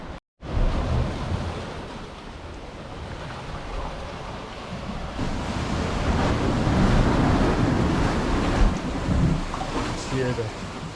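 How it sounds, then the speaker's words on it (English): Ocean surf slams against rocks on a small tropical island, a loud, continuous roar of crashing water and wind buffeting the microphone, swelling stronger in the second half. "ocean slamming against these rocks over here."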